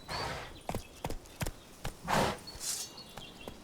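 Horse hooves clip-clopping in The Witcher 3, a series of sharp, irregular hoof strikes on hard ground with a few soft whooshing noises between them, fairly close but quiet.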